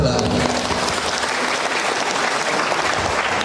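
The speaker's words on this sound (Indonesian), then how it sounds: "Tepuk tangan heula." An audience at a Maulid Nabi gathering and ceremony gives loud, dense, sustained applause that fills the whole stretch without pause.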